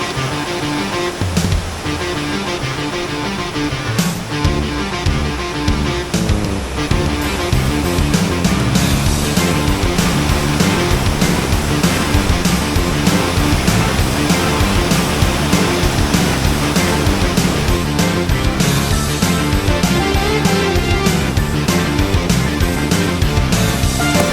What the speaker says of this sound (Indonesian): mudah-mudahan kedengaran suara saya karena ini suara airnya bising banget tuh.